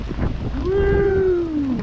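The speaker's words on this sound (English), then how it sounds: "Here comes another gust of wind." A strong gust of wind from Hurricane Milton in Spring Hill, Florida roars loudly and steadily close to the microphone with heavy buffeting, while a person lets out a brief excited whoop over it.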